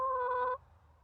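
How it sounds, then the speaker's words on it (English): A backyard flock hen gives a short, tonal vocal call after a wind storm, a single clear note about half a second long, close and fairly loud, then fades to quiet background. "we got Nugget Chicken here, and she's got a lot to say about the weather last night"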